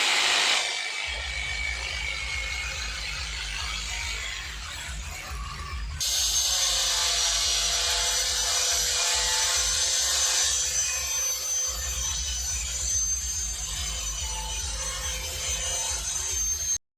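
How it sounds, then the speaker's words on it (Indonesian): An acrylic sheet is cut with a power tool, giving a continuous harsh grinding whine that jumps louder partway through and holds steady, close and alone without talking. "Lagi motongin akrilik buat yang pemanisnya ini dulu."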